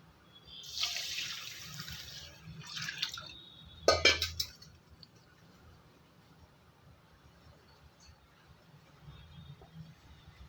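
Water splashes and runs into a container of rice in a short burst, with a brief clatter partway through, then quiet dripping and faint background hum.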